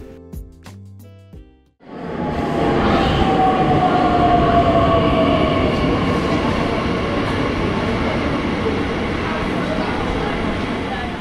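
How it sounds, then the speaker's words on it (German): A modernised Talent 2 electric multiple unit on the RE7 regional line rolls into a station in Brandenburg, its loud, steady rumble swelling in abruptly after a brief quieter opening with faint voices, then holding close and strong. "Und hier sehen wir den Zug auch schon bei der Einfahrt."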